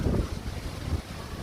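Strong wind from a Kalbaisakhi pre-monsoon storm roars and buffets the microphone in a steady low rumble, with brief gusts and no voices.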